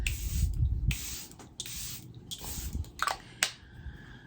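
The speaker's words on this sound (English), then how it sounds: "I'm gonna spray with a little Milani Make It Last setting spray" Milani Make It Last setting spray is pumped onto a face in several quick hissing bursts, the first few longer and evenly spaced, the last two short and sharp, with faint background noise between them.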